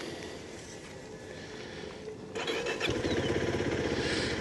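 A Honda Super Cub motorcycle's engine cranks and then catches, with a steady background rumble that jumps to a louder, fuller running note about halfway through and holds there.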